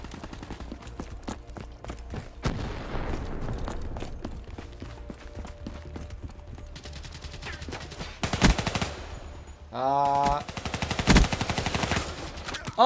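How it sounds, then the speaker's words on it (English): Automatic weapon fire in Call of Duty Black Ops 3 multiplayer, a dense stream of rapid shots followed by louder, closer bursts near the end, with footsteps and game effects mixed in. "You're shooting through that wall."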